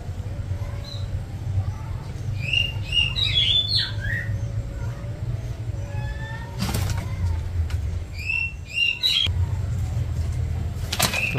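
Oriental magpie-robin parent visiting its nest in the wild, giving scattered chirps and squawks with a couple of sharp wing-flap bursts over a steady low rumble of background noise.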